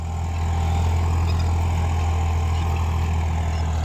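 Swaraj 855 FE tractor engine, 3478 cc, running steadily at a close distance with a deep, constant low rumble and no change in pace, working a cultivator in a field of soft, damp sandy soil.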